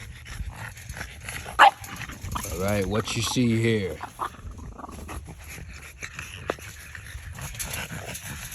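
Three ABKC French Bulldogs pant and snort up close, with a rhythmic burst of heavy breathing in the middle. Someone talks over them.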